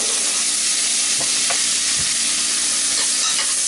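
Sweet peppers, tomatoes, a little hot pepper and onions hiss in a very hot pot, a loud continuous sizzle with a few soft stirring knocks underneath and no talking.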